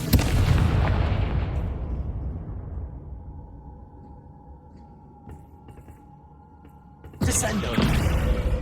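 A fire spell blast in the Hogwarts Legacy video game, a loud booming explosion that decays into a long rumbling tail, followed by another sudden burst of noise near the end.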